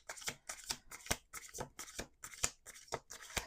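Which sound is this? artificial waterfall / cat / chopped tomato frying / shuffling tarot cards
shuffling tarot cards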